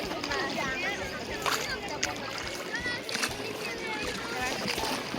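A rowing boat splashes and sloshes through water in a busy anchorage, with irregular close splashes and strokes running under frequent chatter from nearby voices.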